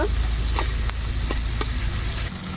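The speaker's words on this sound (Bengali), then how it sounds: "তো আমি তেলের সাথে পেঁয়াজটাকেও হালকা করে ভেজে নেব।" Onion sizzles lightly in hot oil in a pan for an egg curry, with a steady, close frying hiss and a few soft clicks of stirring.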